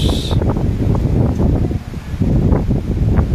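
Strong wind on Isla de Cobos, Catanduanes, Philippines, buffets the microphone in a steady, loud roar of low rumbling gusts, with a brief rustle at the start.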